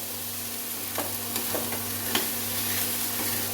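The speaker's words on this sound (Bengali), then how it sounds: "কড়াইশুটি দেওয়ার পরে আমাকে সুন্দর করে নাড়িয়ে ছাড়িয়ে নিতে হবে যাতে সমস্ত জায়গাতে মশলা পৌঁছে যায়" Peas and spiced mutton mince are stirred in a wok for a Bengali restaurant-style dish. A low, steady sizzle runs under scattered soft scrapes and clicks from the spatula, close up and with no talk.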